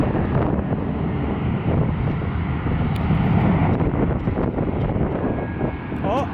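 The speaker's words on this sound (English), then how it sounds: "There's the plane." Airplane at Atlanta airport, a steady, loud broadband engine roar with wind buffeting the microphone, sustained throughout at close range.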